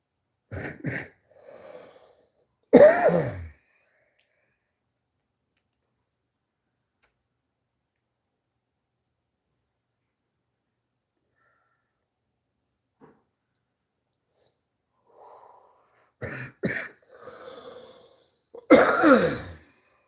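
Sharp coughs and throat clearing after inhaling a nicotine vape, a burst near the start, then a long near-silent gap, then another cluster of coughs near the end, close and with no speech.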